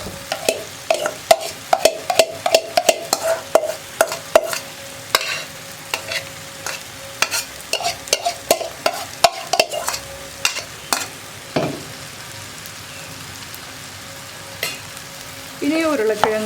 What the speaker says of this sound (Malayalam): ഇനി ഉരുളക്കിഴങ്ങും കൂടി ഇതിൻ്റെ കൂടെ ചേർത്ത് ഒന്ന് ഇളക്കി മിക്സ് ചെയ്തെടുക്കുക.